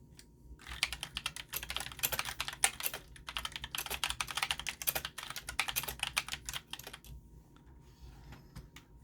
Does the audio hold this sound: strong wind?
no